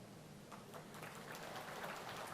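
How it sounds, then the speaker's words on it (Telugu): Applause from an audience at a political party meeting, a faint, continuous patter of scattered clapping heard from a distance. "సగమే చప్పట్లు కొట్టారు, ఇంకా సగం కొట్ల"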